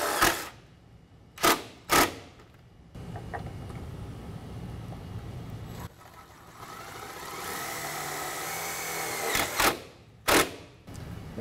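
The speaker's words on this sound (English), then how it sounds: "using a 3/8 inch driver to put that in place" Power driver spinning #14 one-inch self-tapping screws into a Chevy Express bracket with a 3/8 inch driver: a steady buzzing whir runs for several seconds at a time, set between a few sharp clanks.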